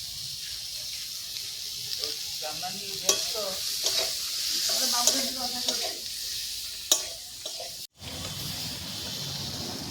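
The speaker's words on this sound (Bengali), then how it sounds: "দিয়ে একটু লাল লাল করে ভেজে নেব।" Cauliflower, potato and spices with turmeric, salt and green chili sizzle in hot oil for a Bengali fish curry. The frying hiss runs steadily under intermittent scraping stirs and a clunk near the end.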